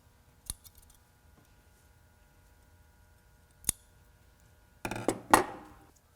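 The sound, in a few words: scissors cutting extra threads off a T-shirt face mask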